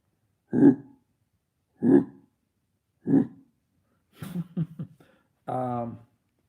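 A voice imitates a Sasquatch call: three short guttural grunts spaced evenly, then a rough growling burst and a drawn-out hoarse howl.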